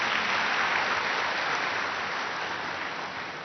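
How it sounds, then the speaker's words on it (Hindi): An audience clapping for themselves at a spiritual discourse, a dense, steady wash of applause that holds for several seconds and fades slightly toward the end, with no talk over it. "अभी अभी ताली बजा दो अपने लिए।"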